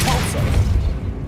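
The Repulso spell from Hogwarts Legacy lands as a heavy, booming burst with a rough rumbling tail, loud and close, with a voice briefly overlapping its start.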